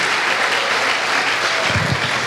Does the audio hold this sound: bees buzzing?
no